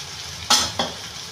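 Fried vegetables with soaked poha are stirred in a pan, two quick spatula scrapes over a low background sizzle, close and brief.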